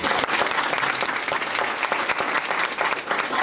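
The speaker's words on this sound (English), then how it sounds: "if we can have another round of applause for all of our speakers" Brisk, loud clapping fills a school board meeting as the audience applauds the student speakers, a dense steady burst of many hands with sharp individual claps poking through.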